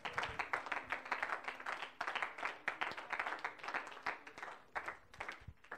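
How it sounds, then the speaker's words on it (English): A church congregation claps steadily in praise, a fairly quiet but sustained patter of many hands with distinct individual claps throughout, no talking over it. "Can we just give the Lord a hand clap of praise and worship him?"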